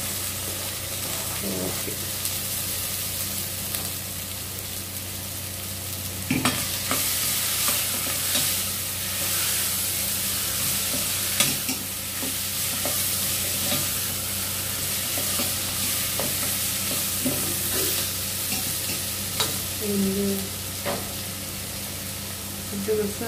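Ridge gourd and green chilies stir-fried in a pan, with a continuous sizzle and intermittent spatula scrapes and knocks, and a brief spoken word partway through.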